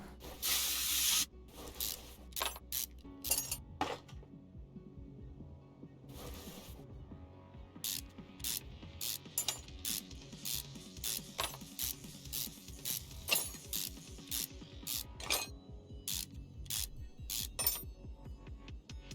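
A ratchet wrench works a rusty bolt loose in Car Mechanic Simulator 2021, with rapid bursts of clicking pawl ticks repeating in quick series over a low steady in-game hum.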